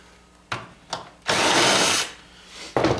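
A power tool removes small screws from an air conditioner: two short whirring bursts, then a longer sustained run of about a second, followed by another short burst, close and loud.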